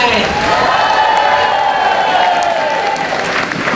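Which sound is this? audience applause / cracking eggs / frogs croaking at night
audience applause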